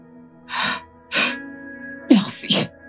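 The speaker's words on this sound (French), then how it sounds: "Si elle aspire, elle va éternuer et se réveiller." A woman sneezes in a dramatic film scene, breathy bursts repeating several times in quick succession, close and fairly loud, ending in a sharper double sneeze.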